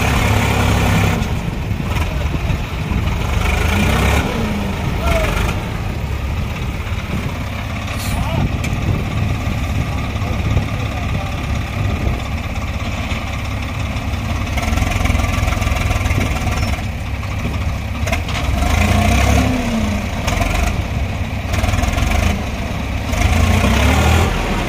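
Swaraj 744 XT and Sonalika 750 tractors run together in a power contest, their diesel engines chugging and droning steadily and close by, with people talking over the din throughout.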